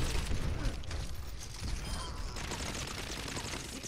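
Shooter video game gunfire rattles in dense, moderately loud bursts with mechanical clatter, strongest at the start and then continuing more softly underneath.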